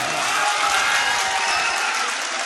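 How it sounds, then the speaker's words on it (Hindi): A hall audience at a ghazal recital in Sambhal applauding, a loud dense wash of clapping from a crowd that holds steady throughout with no pauses. "एक बार बजा दें तालियां"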